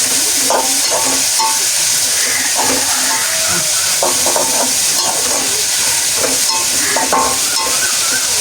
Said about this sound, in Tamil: ஓகே இவர் இப்படியே லைட்டாக வதங்கட்டு